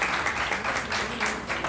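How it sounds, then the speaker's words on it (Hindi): Guests at a wedding ceremony applaud together, a dense, steady burst of clapping from a gathered crowd heard close and fairly loud. "आइए मिलकर के जोरदार ताली बजाएंगे।"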